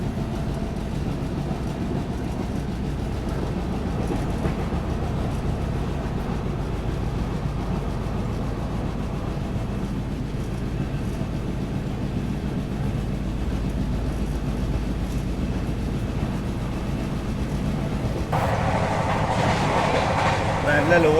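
The August Kranti Rajdhani Express, in a 3 AC coach, runs with a steady loud rumble and rail noise that continues throughout and swells near the end.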